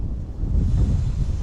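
Wind blows while fishing, with low, rumbling gusts buffeting the microphone in a steady, close roar and no voices.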